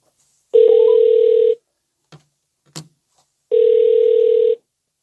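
Telephone busy signal on a call: two identical steady electronic tones about a second long each, separated by a pause with a couple of faint clicks, loud and clear, with no voices.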